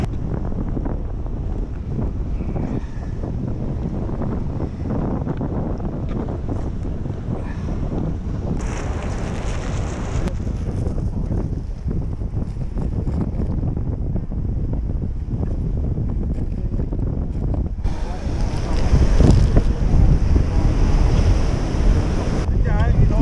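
Strong wind buffets the microphone on a sea shore during surf fishing, a loud continuous roar with gusts and the wash of waves beneath, swelling harder near the end, no voices.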